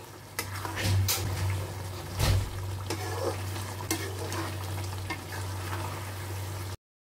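Poppy seed and cashew paste going into a pan of chicken rezala, a close sizzle under spoon stirring with a few clinks against the pan, then a short silence.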